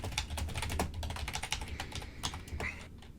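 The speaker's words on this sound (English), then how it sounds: "These are typing noises." Rapid clicking of fingers typing on a computer keyboard, close and steady, with irregular keystroke bursts running for about three seconds and no voices.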